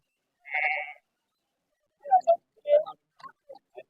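Goats and sheep bleat at the Kunta livestock market: one long, clear bleat, then after a pause a run of shorter calls from several animals, close by and otherwise quiet.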